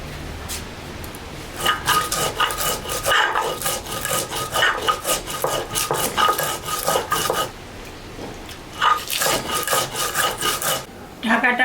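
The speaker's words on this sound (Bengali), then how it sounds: "চলুন বন্ধুরা ভাজা মশলাটা বেটে নিন।" Fried spices are ground into paste on a grinding stone: rhythmic, gritty rasping strokes come in quick close bursts, pause briefly, then resume.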